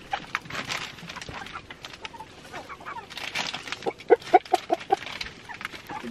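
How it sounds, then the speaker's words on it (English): Chickens in an ammonia-smelling coop give soft, scattered clucks and faint rustling, then a short run of louder, quick rhythmic clucks near the end, close by with no talk. "What did you guys do to your nesting box?"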